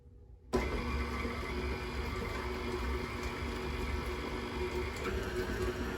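An electric mixer whirs steadily through thick Levain-style cookie dough as two eggs are worked in, switching on abruptly after a brief quiet moment and then holding a constant motor drone.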